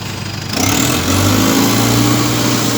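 A bus engine drones loudly and steadily as the bus mounts the curb, rising in pitch after a brief quieter start and holding a constant rumble.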